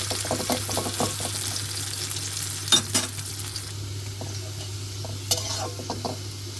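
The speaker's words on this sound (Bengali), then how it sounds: "পেঁয়াজ দিয়ে দিলাম পেঁয়াজ, নাড়াচাড়া করে ব্রাউন করা হলে" Onions fry in oil for a bottle gourd and prawn curry while a spoon stirs them in the pan, steady sizzle under repeated scraping clicks and clanks, close and fairly loud, no voices.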